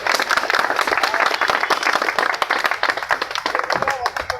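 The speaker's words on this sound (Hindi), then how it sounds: "जोरदार ताली के साथ में निर्मल जी पंडित सर का स्वागत करें, अभिनंदन करें।" Loud, sustained applause from a crowd, dense clapping filling the whole stretch with no break.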